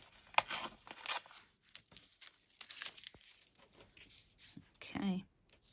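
Close, quiet snips and crinkles as paper is trimmed by hand for a torn window craft effect, scattered irregular cuts with soft handling noise and a voice speaking in between.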